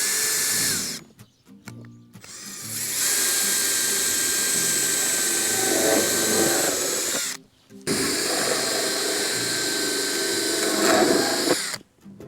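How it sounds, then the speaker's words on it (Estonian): Loud, sustained whine of a power drill in three long bursts separated by brief pauses, close up with grinding as the bit bites into lids and boxes. "nüüd ma puuringi kõigepealt kaaned ja siis kastid"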